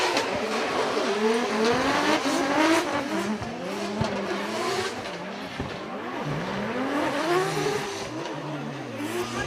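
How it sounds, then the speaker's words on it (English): Formula Drift Japan cars drifting in a tandem chase, with engines revving and wavering in pitch as they slide, tire squeal layered over the rising and falling engine note, heard at moderate distance. "now Amagai's leading, and Gushi is giving chase."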